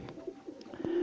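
Breeding pigeons kept in a loft coo softly in a few short, low calls, ending in a louder, sustained coo close by.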